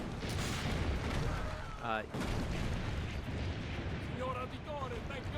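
Cannon fire against city fortifications in the video game Assassin's Creed: Brotherhood, a dense rumbling wall of booms and blasts running throughout, with faint voices under it.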